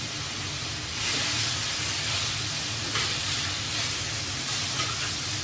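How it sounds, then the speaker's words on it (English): Zucchini sautés on low heat in a pan with spices, giving a steady soft hiss and sizzle that rises slightly after the first second and holds on, with faint clatter and no talking. "I just want this to saute a little bit"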